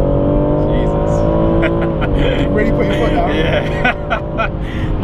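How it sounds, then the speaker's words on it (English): A BMW M140i Shadow Edition engine accelerating, heard from inside the car as a steady rising drone with gear changes, with people talking over it. "really nice pickup, and that sound of the engine"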